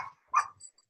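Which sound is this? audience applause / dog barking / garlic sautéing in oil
dog barking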